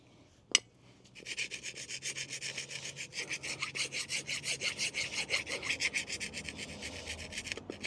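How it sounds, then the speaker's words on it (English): A brake part surface on a Land Rover LR4/LR3 is sanded by hand after a single sharp tap, a close, rhythmic scraping with steady back-and-forth strokes and no talk. "I'm going to sand this off a little bit."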